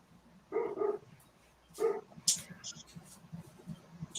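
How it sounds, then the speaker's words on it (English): A dog barks in two short bursts, a double bark followed by a single one, close and fairly loud, with quieter yips and household noise after. "My dog barks."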